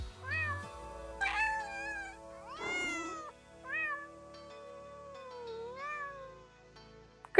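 A cat meows repeatedly, close and clear, with several drawn-out, rising and falling calls separated by short pauses.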